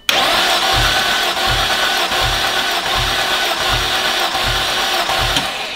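A 12v VR6 turbo engine in a B5 Audi A4 cranking over during a compression test gives about seven even, rhythmic low chugs beneath a steady broadband hiss.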